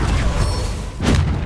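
Bombarda spell explosions burst in Hogwarts Legacy, with two deep, heavy booms about a second apart, loud and close over a rumbling background.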